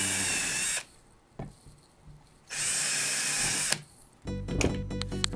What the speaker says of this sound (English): You put pressure, drill your hole